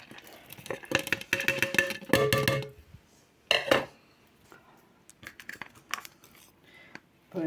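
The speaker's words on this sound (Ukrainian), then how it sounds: "перемішуємо" Coconut cookie dough with shredded coconut being mixed in a bowl: bursts of clattering and scraping of a utensil against the bowl, separated by quieter pauses and a few sharp clinks.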